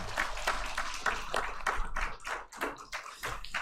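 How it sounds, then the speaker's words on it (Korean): A church congregation applauds in thanks, a soft, steady patter of many hands clapping heard from some distance and sustained for several seconds. "우리 박수로 감사를 표시하고"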